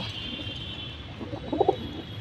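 Soft, low coos from a pair of high-flyer pigeons bubble up in a short cluster near the end, close by, over a steady background hum.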